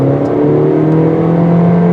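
A Honda CR-V with a CVT accelerates in sport mode, its engine holding a steady, strained drone that climbs gradually in pitch, heard from inside the cabin without talk.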